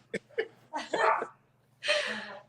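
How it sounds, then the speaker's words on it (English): Dogs give a few short, snuffly barks and huffs indoors at a house, faint and brief with quick pauses between bursts. "you got the dogs barking"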